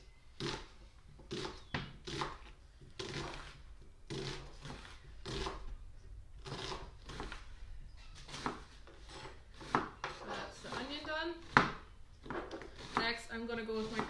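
A knife chopping onion on a cutting board, a quick series of crisp, close taps at a steady rhythm, quiet overall with faint voice sounds between strokes.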